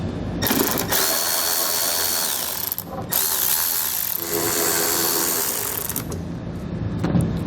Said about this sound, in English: We'll grab a T25 Torx bit and pull both of those screws out.